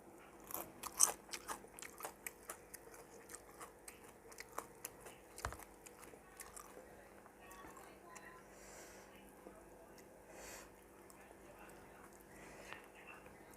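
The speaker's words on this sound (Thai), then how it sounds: "หัวนี่กรอบๆ" Crunchy fried mackerel head is chewed close to the mic, with crisp bites and crunches coming in quick bursts early on, then softer intermittent chewing, quiet and intimate with faint breathy sounds.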